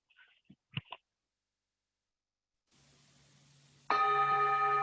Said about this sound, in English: I will ring a bell in a moment to start the meditation.